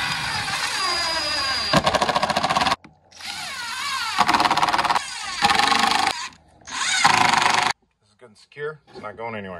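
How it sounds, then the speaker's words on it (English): A power drill with a 27/64 drill bit bores into a workbench table, whirring loudly in several long bursts that stop and restart, with someone speaking briefly near the end. "I'd recommend just drilling it right into the table"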